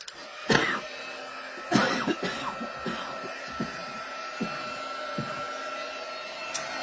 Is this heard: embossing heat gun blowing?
yes